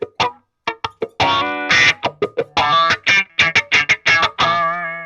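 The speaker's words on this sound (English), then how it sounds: "most basic Jim Dunlop Crybaby wah wah pedal" Electric guitar played through a basic Jim Dunlop Crybaby wah wah pedal, distorted stabs and short choppy chords with sweeping vowel-like tone changes, ending on a sustained ringing chord, loud and alone.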